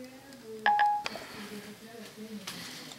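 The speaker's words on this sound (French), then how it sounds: "J'appelle Romain Morvan sur son téléphone portable" Siri on an iPhone places a phone call, giving a short pair of bright electronic dialing tones followed by a soft chime, with a voice speaking around them.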